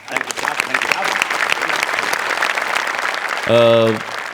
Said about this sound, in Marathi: त्याकरता तुमच्यासाठी टाळ्या